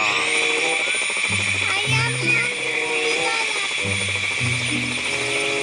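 A steady helicopter-like drone with rotor buzz runs throughout, with a game-style tonal pattern repeating underneath, from a helicopter flying in the video game Dude Theft Wars.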